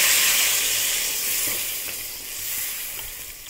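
Water poured into a pan of hot fried masala sets off a loud burst of hissing sizzle that gradually settles, with a few faint stirring taps, close and steady.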